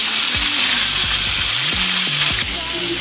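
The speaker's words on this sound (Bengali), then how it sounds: "এটা ফ্রাই হোক" Fish pieces frying in a pan, a steady bright sizzle that continues loud throughout, with occasional low knocks and scrapes in the pan underneath.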